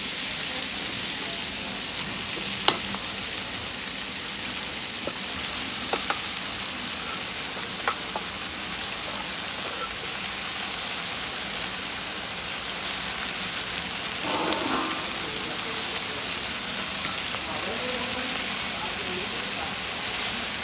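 Potato bhurji fries in a pan with a long, even sizzle like light rain, marked now and then by brief scraping stirs.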